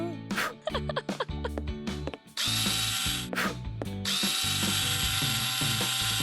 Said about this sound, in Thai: และสิ่งที่เราต้องทำก็คือเจาะสกรู